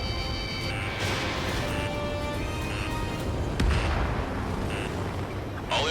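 Missile strike in a video game: a dense, roaring barrage of explosive booms and rumbling blasts fills the scene continuously, with a sharp crack near the middle and a voice faintly under the chaos.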